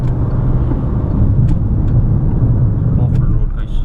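A Peugeot 2008 Allure PureTech 1.2 petrol, 129 hp, driving in sports mode on a very rough road, with a steady loud engine and road rumble filling the cabin and a few brief clicks over the drone.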